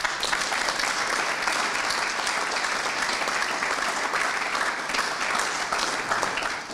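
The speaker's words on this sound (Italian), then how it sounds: "Quindi alla mamma di Elige un applauso." A crowd at a women's celebration gives a mother a long round of applause, a loud, dense and continuous clatter of many hands that holds steady before tapering at the very end.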